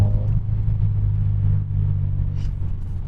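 A car driving on the road gives off a steady low engine rumble and road noise from inside the cabin, loud and continuous without clear revving, with no talking.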